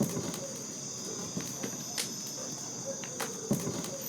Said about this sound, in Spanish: se escuchan nomás los grillos, las ranas